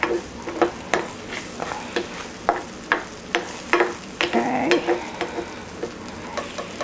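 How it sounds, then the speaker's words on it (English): Onions sizzle on a grill beside salmon, with a steady frying hiss broken by regular scraping stirs from a utensil, close and clear with no talking. "we're gonna make sure that the onions get really nicely grilled, that they get caramelized for sure."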